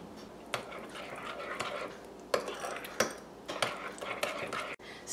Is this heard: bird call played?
no